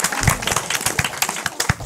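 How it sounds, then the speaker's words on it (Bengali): Loud applause from a classroom of school students, dense overlapping clapping from many hands throughout, with no talk over it. "তার জন্য জোরে একটা হাততালি।"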